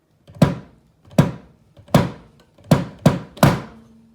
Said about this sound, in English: I have an old suitcase that's metal, but it does have wood on the sides. And I put a foot pedal on it. And now I use it as a bass drum